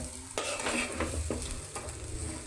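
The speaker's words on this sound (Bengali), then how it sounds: "পোলাও চাল ডাল একসাথে ভেজে নিছে" Pulao rice and lentils toasting together in a pan, a close, steady sizzle with scraping stirring strokes and a few utensil knocks against the pot, no voices.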